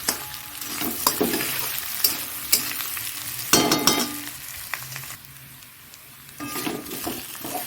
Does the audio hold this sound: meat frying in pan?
yes